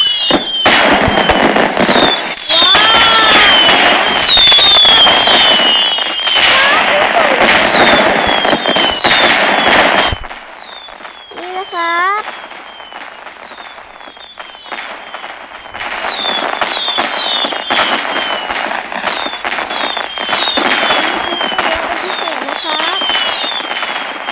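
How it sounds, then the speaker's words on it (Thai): Fireworks go off in rapid, crackling bursts with whistling rising streaks, loud and dense for the first ten seconds, then thinner pops and whistles before another sustained barrage; voices are heard among the noise. "ผมจะจุดพลุนะครับ"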